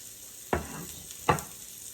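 Chopped large onion and about three stalks of celery drop into a hot pot for beef stew, giving two distinct soft thuds followed by brief low sizzles, fairly faint with no talking.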